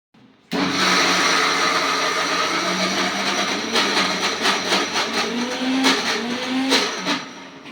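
A kitchen mixie (mixer grinder) grinding ingredients for a festive dish, loud and continuous, a steady whirring roar starting abruptly and running throughout with slight rises in pitch as the load shifts.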